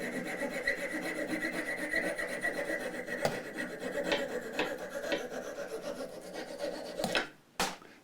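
A coping saw cuts through wood on a Martin HD28 acoustic guitar bridge, a steady rasping back-and-forth that runs close and even, ending with a couple of sharp knocks.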